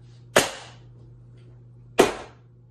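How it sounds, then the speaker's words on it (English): Two cake pans filled with egg-white cake batter are banged sharply on a kitchen counter, giving two loud, separate thuds about one and a half seconds apart over a low steady hum, with no talking. "So we're gonna bang them on the counter."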